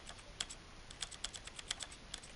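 A computer keyboard clicks in quick uneven taps, close and fairly quiet, with no voices.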